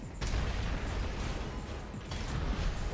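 Bombs explode in the Armored Core 6 mech combat game as a dense, continuous wall of loud, rumbling blasts and crackling bursts, with no break across the stretch.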